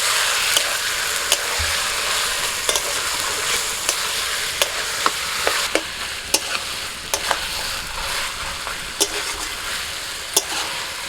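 Marinated chicken sizzles steadily in a hot wok with fried onion and whole spices, while a spatula scrapes and taps the pan at frequent, irregular intervals.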